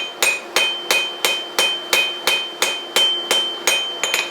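Steady hammer blows on metal over the flat of a VEVOR 66 pound anvil, about a dozen ringing strikes at an even brisk rhythm, loud and close with no talk.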